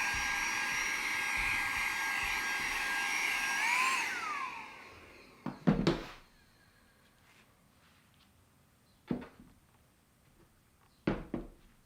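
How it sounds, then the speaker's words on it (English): A small vacuum cleaner whines loudly up close while it sucks dust out of a Crafted Elements Texas-shaped mold, then cuts off after about four seconds, followed by a few soft handling thumps. "So I just got a little vacuum and I just try to suck everything out."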